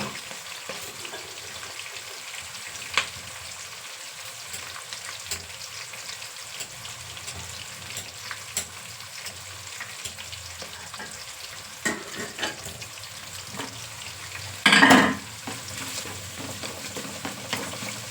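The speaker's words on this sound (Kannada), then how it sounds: "ಒಗ್ಗರಣೆ ಬೇಯಿಸಿ" Oggarane tempering fries in a pan, a steady soft sizzle and crackle held at low volume throughout, with a brief louder clink or stir near the end and no talking.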